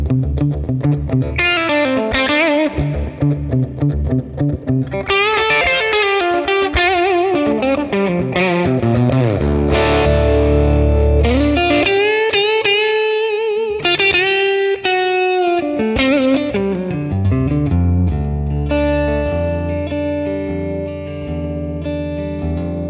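Overdriven electric guitar through a Tonex capture of a 1966 Fender Blackface Bassman amp with reverb added plays loud, sustained chords and melodic runs, with low notes ringing out in a continuous stretch of playing.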